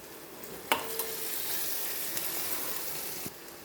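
Onions sizzle softly in a pan, a quiet continuous hiss broken by a few light clinks and taps.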